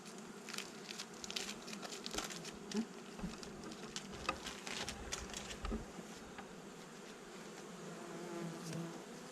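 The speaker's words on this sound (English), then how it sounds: "You'll hear the bees kind of already start to react to the smell" Many honeybees hum continuously close by inside a hive during mite treatment, a dense steady buzz with scattered faint crackles and taps underneath.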